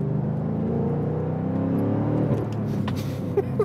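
A G-Power-tuned BMW M5 CS with about 800 PS drives along, its engine giving a steady, close, continuous drone with low harmonic layers. A few faint clicks and thumps come near the end, and nobody speaks.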